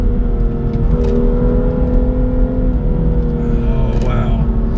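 A 2017 BMW M2 accelerates with a steady, loud engine and exhaust drone heard from inside the car, a sustained close hum with a slight shift partway through.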